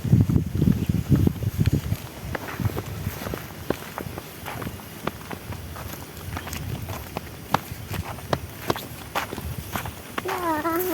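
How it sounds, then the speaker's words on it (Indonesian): Footsteps crunch steadily along a path leading to Curug Cemoro Kembar waterfall in Limbangan, Kendal, close and clear in an even walking rhythm, with a person talking intermittently over them. "kita lanjutkan jalan kaki menuju Curug Cemoro Kembarnya"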